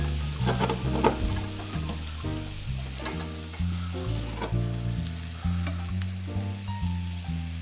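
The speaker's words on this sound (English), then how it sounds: "add 1 slice of whole wheat bread to the sausage greased pan, making sure to monitor the crispiness level" A slice of whole wheat bread fries in sausage grease in a pan, giving a continuous close sizzle beneath a prominent tonal melody.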